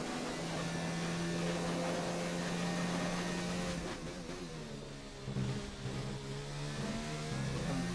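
An F1 car engine on a flying lap on hard tyres at the Canadian GP in F1 2019, a high revving whine that climbs through the gears, dips briefly midway, then builds again, with no talk over it.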